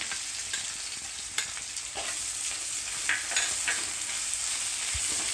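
Continuous sizzling of green chilies and crushed ginger frying in a hot pan, with occasional soft stirring scrapes, close and steady with no talking.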